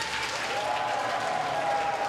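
An audience claps in steady, dense applause at an event welcoming families, sustained at an even level without a break.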